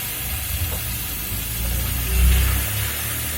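A splash of water meets a hot pan while cooking fish, giving a broad steady hiss with a low rumbling surge of boiling near the end, close and loud, no voices.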